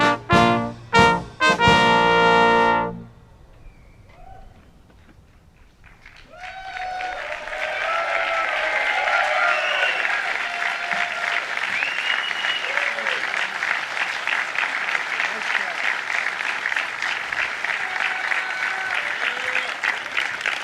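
Sustained applause from a large audience gathered near the Oval Office, swelling after a brief lull and holding steady, dense and fairly loud, preceded by a few sharp louder bursts.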